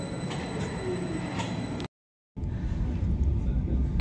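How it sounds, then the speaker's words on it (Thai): Rumbling train noise with occasional squeals and clatter, briefly cut to silence, then a heavier low rumble as it rolls into the Geneva Airport station platform. "รถไฟขบวนแรกที่ปานสนามบินเจนีวานะครับก็เข้าสู่ชานชาลาแล้วนะครับ"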